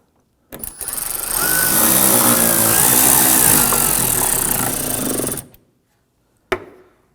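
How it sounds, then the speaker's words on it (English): A power tool drives screws around the perimeter of a washer fluid reservoir on a 2015-2020 Ford F-150, a loud steady whir lasting about five seconds, then a brief final burst after a pause. "let's go ahead and tighten down the screws around the perimeter"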